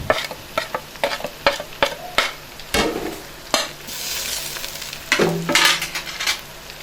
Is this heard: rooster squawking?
no